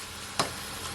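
Beef chow mein sizzles in a hot pan as it is stirred, a single sharp clack of the utensil against the pan over a soft, steady frying hiss.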